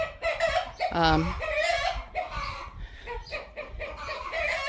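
Chickens clucking in a fenced homestead yard, fairly close, with a brief louder squawk near the start and a busy background of bird calls throughout.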